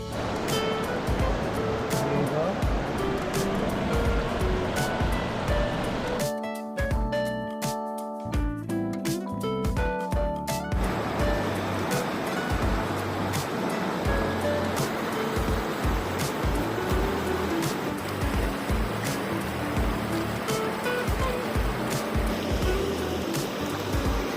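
Steady rushing flow of the Tumalaong River in Baungon, Bukidnon, a loud continuous wash of water with a brief broken patch of clattering sound midway, no voices.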